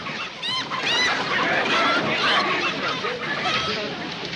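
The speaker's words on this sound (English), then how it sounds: "I ain't heard so much cackling on this train" Chickens cackling in a busy, overlapping chorus of squawks and clucks, loud and close, with a murmur of background voices.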